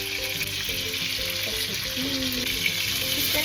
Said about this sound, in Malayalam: ചിക്കൻ ഞാൻ മാരിനേറ്റ് ചെയ്യാൻ ഫ്രിഡ്ജിൽ വെച്ചിട്ടുണ്ടായിരുന്നു